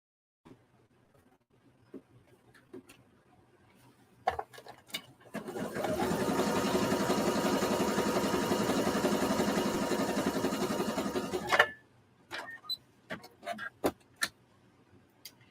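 A sewing machine stitching a zigzag line after its bobbin thread and plate are set, running steadily for about six seconds alone, framed by handling clicks and taps before and after.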